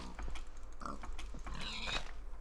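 Pigs grunt and oink in short bursts in the Minecraft video game, set near a village. The sounds are fairly quiet and spread over a soft background hum.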